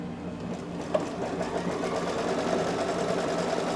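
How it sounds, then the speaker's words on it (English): An embroidery machine sews a tack down stitch on quilt batting, its needle chattering in a rapid, even mechanical rhythm up close, with a brief knock early on and no talking. "This is the tack down stitch for the batting."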